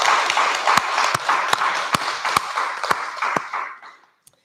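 A small group claps for an award nominee at a graduation ceremony, soft scattered clapping with a few sharp louder claps standing out, thinning and fading to near silence at the end.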